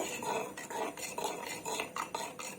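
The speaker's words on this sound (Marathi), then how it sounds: "आता आपण चमच्याने ढवळून घेऊया" A spoon stirs curd in a clay pot with quick scraping and clinking strokes in a steady rhythm, close and fairly quiet with no one talking.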